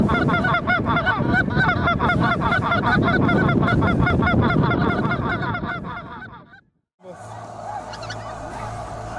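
A flock of migrating geese honks loudly and nearby in a dense, rhythmic chorus of overlapping calls that continues for several seconds, then breaks off abruptly, leaving a brief silence and a quieter, different background.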